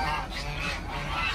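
Chinese geese on a farm honking loudly and continuously at close range as they crowd and scramble for thrown feed, overlapping calls filling the short stretch.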